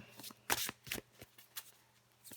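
Tarot cards being shuffled and drawn, giving several soft papery riffles and flicks in quick bursts, close and quiet with no talking.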